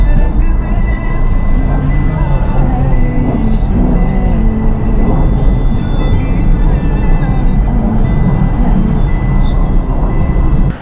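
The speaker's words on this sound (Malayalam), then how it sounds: "അത് ഫൈറ്റർ ജെറ്റ് ഇങ്ങനെ റൗണ്ട് അടിക്കുന്നതാണ്." A fighter jet circles over a Ladakh village at Gya, a steady loud broadband roar that persists throughout, with faint talk mixed into the drone.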